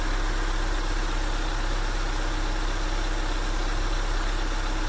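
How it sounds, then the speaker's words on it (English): A Mazda B2000 pickup engine idles near 1,000 rpm at close range, a steady, loud, unbroken mechanical drone with even low rumble for the whole stretch and no talk over it. "So I'm gonna idle it down just a hair."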